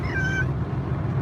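A short, clear cat meow up close, a single rising-falling call, followed by a low background hum.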